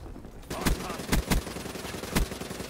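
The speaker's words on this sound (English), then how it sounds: "Suppressing fire over to the point where the enemies are trying to come through and force" ICR assault rifle in Black Ops 3 firing suppressing fire, a handful of sharp, punchy shots spaced irregularly over a busy game soundscape with faint talk.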